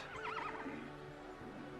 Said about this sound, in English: Yeah, she's quite a horse.